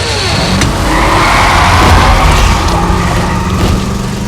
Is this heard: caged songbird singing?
no